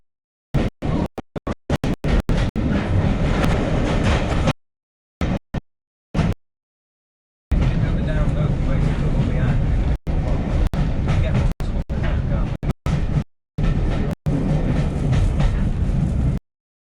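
An old Mark 1 coach runs over jointed, non-welded track at a diesel gala on a heritage railway. A loud, close rumble comes with rhythmic clatter and breaks into choppy bursts with short gaps.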